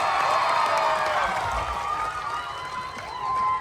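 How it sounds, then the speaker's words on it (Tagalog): A crowd at a political gathering in Batangas greets a congressman with loud cheering, shouting and clapping, which swells and then settles slightly. "Isang malakas na palakpakan na may sigawan!"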